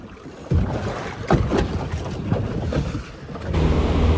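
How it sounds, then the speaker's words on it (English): A fishing boat cruises out over a wavy sea, its engine and hull noise rumbling steadily beneath gusty wind buffeting the microphone and slapping waves, with a few sharp thumps as the hull hits swells. "It's a little bit wavy, so we're gonna just cruise on out of here."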